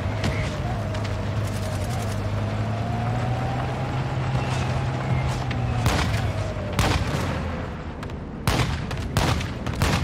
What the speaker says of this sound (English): Hostile mortar strike incoming. Friendly mortar strike on the way.